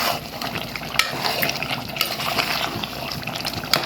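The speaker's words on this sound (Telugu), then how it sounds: "కొంచెం నీళ్ళు పోస్తాను." Water is poured into a gongura mutton curry, a steady close splashing gush with a few brief clinks, continuous throughout and without speech.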